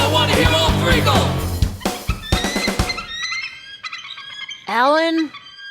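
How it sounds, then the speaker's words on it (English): Eagle calls played as a sound effect in a podcast segment, with layered rough squawks and chattering cries stacked together before a single clear, sweeping screech stands alone near the end. "I want to hear the eagle."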